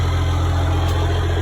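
A 12-valve Cummins diesel truck engine idles steadily nearby, a low, even rumble with a constant throb and no voices.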